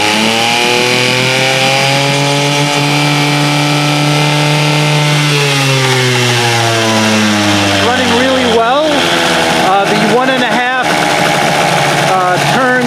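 A 5 hp Mercury two-cycle outboard motor runs loud and close with a buzzy, continuous drone, its pitch rising and falling as the throttle is blipped several times toward the end.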